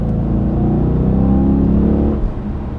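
A 2008 Dodge Challenger SRT8 First Edition engine held around 3,000 RPM gives a deep, loud, steady V8 rumble heard from inside the car, easing off near the end.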